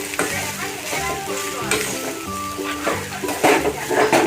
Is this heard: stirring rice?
yes